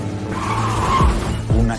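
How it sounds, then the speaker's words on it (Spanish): A car skids in an accident sound effect, giving two loud, close tyre screeches with a downward swoop, the second one short, over engine noise. "Un accidente de coche"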